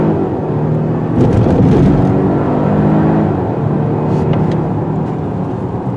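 A 2020 Volvo XC90 T8 plug-in hybrid accelerating hard, a steady, loud engine drone and road roar that swells and holds, close up from inside the cabin with no talking.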